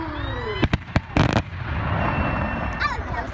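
Holiday-weekend fireworks go off outdoors in a few sharp, loud cracks in quick succession, followed by a lingering crackle and hiss, with faint voices in the background.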